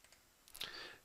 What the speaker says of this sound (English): double click in the next one